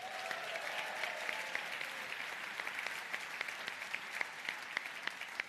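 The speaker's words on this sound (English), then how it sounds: "They deserve another round of applause." Sustained applause from an audience at a Pan-Mass Challenge charity cycling event, honoring the volunteers; dense steady clapping from a crowd at moderate distance with no voices over it.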